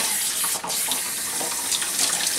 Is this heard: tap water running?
yes